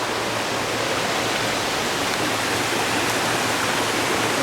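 Water rushes down a channel past old diversion pipes near a cemetery, a loud, steady, close roar of dense broadband noise with no letup and no voices.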